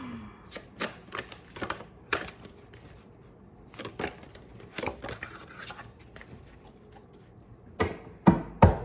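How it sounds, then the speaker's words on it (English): An oversized Urban Tarot deck is shuffled by hand, with irregular crisp riffles and slaps of card stock in separate bursts, quiet gaps between them, and a louder flurry near the end. "These cards, this deck, is so big that it's almost impossible for me to shuffle it"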